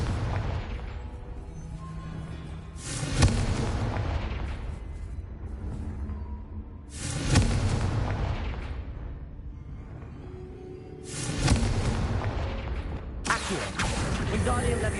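Repeated Confringo spell explosions in Hogwarts Legacy, three loud broadband bursts roughly four seconds apart, each followed by a decaying rumble over steady background game noise.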